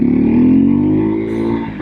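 Husqvarna Svartpilen 401 motorcycle engine accelerating on a sandy residential street, a close, buzzy single-cylinder drone climbing steadily in pitch with a slight easing toward the end.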